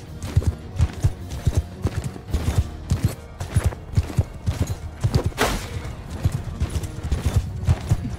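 Rhythmic clip-clop of horse hooves from the medieval battle game Mount & Blade II: Bannerlord, steady galloping beats running throughout at close range with no speech.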